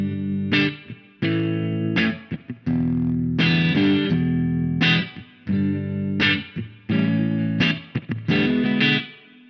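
Clean, compressed electric guitar through a Mooer GE300 Lite modelling a Fender Deluxe Reverb amp with spring reverb, playing a series of strummed chords and short phrases with brief pauses, close and fairly loud, with no talk.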